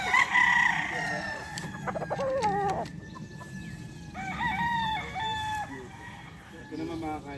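A five-month-old Sweater Boston gamefowl rooster crowing at a game farm, with several crows from nearby birds overlapping in bursts over constant background clucking and farm noise.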